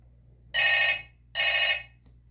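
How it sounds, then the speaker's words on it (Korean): An indoor telephone bell rings in two bursts of roughly half a second each, separated by a short gap, clear and fairly close over a low steady hum, with no talking. "저녁 식사를 마쳤는데 기다렸다는 듯 전화가 왔어"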